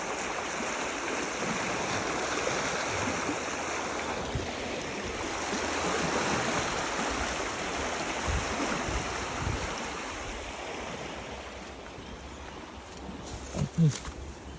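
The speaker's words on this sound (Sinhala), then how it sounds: "ඔය සාමාන්‍ය විදිහට මේ විදිහට ගලාගෙන යනවා" A stream of water flows steadily outdoors, a continuous broad rushing and burbling wash with some wind noise, sustained throughout with a few small knocks near the end.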